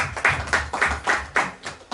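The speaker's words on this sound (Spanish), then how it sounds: "Un aplauso para él." A small audience at a book presentation of a comedy by José María Torrijos claps for a speaker, a few loud, distinct clustered bursts in a rough rhythm, close by in a room.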